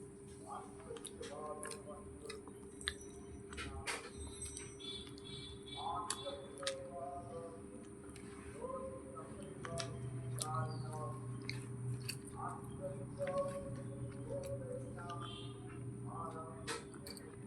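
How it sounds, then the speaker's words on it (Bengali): Someone eats rice and fish curry quickly, with soft, wet chewing and small bites that stay close but quiet under ongoing speech. "তাড়াতাড়িও খাচ্ছি একটু"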